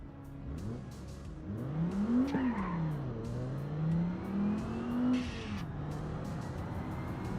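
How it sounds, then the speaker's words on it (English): A turbocharged 2004 car engine in the BeamNG driving game revs up and down in smooth rising and falling sweeps, moderately loud, with faint ticks and clicks in the background. "Just the sound of the turbo is not the best."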